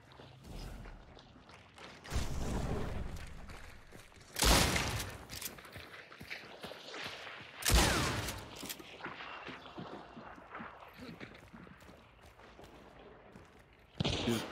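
Gunfire in a multiplayer video game, shots fired through a wall: loud bursts of shooting that recur several times, with gaps of quieter game noise and footsteps between them.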